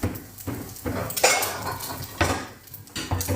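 Ceramic restaurant plates with a hollow centre clink and clatter as they are taken out and handled in a home kitchen, several sharp knocks spread across a few seconds with no talking.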